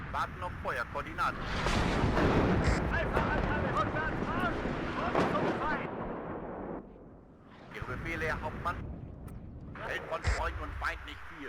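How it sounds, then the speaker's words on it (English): Enemy artillery strikes near a river bridge in the WARNO war game, rumbling and thudding in heavy overlapping blasts, loud and close, with a brief lull before more impacts, under a voice. "Enemy artillery coming in."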